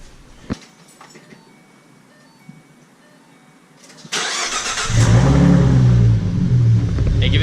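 After a few seconds of near quiet, a Ford Mustang with its mufflers removed cranks briefly and fires up. It settles into a loud, deep, rumbling idle close by.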